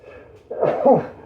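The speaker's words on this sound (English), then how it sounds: "Pepper made me sneeze." A single short sneeze set off by pepper while cooking fresh corn, close and fairly loud, rising out of a quiet background.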